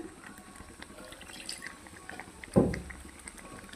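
Rinse water from a mixer jar splashes into a cooking pan of tomato paste, a short, close pour and splash near the end, over faint kitchen background.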